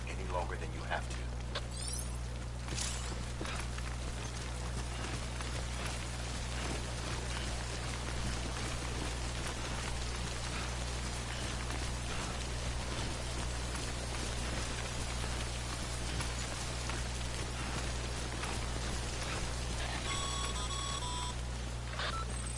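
Timefall rain from the video game Death Stranding hisses steadily and evenly across the whole stretch over a low background hum, with a few short electronic beeps near the end.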